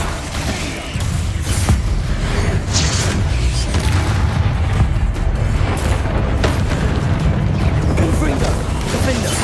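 Bombarda spell explosions in Hogwarts Legacy cave combat: a loud, dense roar of booms and crashing debris that stays sustained and heavy, with a voice speaking faintly underneath.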